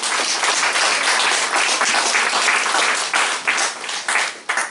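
A church congregation applauds during a French-language sermon, loud, close, continuous clapping that thins out and tapers in the final second.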